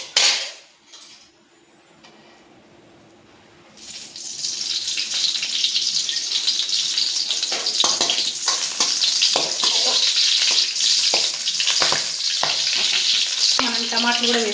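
Green chillies and tomatoes frying in oil in a pan for tomato chutney, a loud steady sizzle that flares up after a quiet start and continues with bursts of stirring and spatter, no voices.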